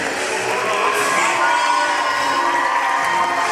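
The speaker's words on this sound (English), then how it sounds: "A nice crowd on hand." A crowd cheers at a high school varsity basketball game between Salem and Mountain Grove, a steady, loud roar of shouts and whoops from the home crowd and student section that lasts throughout.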